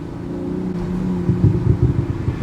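A BMW M340i engine hums steadily, then, in sport mode, rises into a louder, throatier rev with pulsing low rumble near the end.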